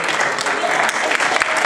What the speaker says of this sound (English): Just give God a clap.